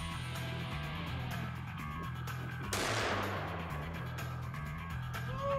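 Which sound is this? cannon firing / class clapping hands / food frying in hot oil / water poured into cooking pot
cannon firing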